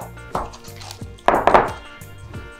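A cake tin filled with hummingbird cake batter is tapped on a kitchen counter several times, giving a few close, hollow metallic knocks and light clatter.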